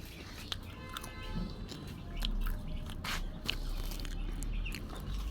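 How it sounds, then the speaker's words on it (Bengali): Someone eating popcorn close up, with soft irregular crunching and chewing bites over a few seconds and light background movement. "পপকর্ন খাচ্ছি।"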